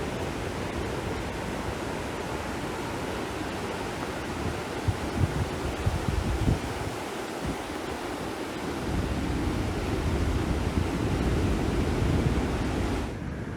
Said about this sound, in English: Check out these waves and listen to the sound they make.